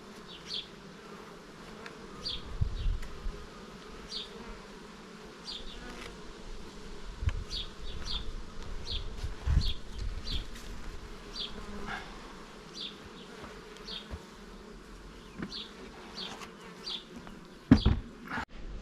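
Honey bees buzz steadily around a hive where they are drawing out comb on wax foundation frames, a continuous close hum with individual bees flying past the microphone and a sharp knock near the end; no one speaks.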